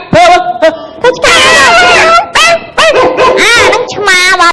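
In a Cambodian comedy sketch a man imitates a dog, loud close barks, yips and whimpering howls in quick irregular bursts, his voice doing all the dog sounds.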